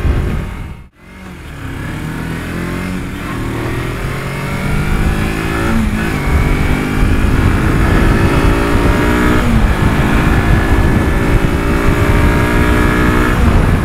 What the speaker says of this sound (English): You can definitely see it's a higher revving motor than the traditional singles.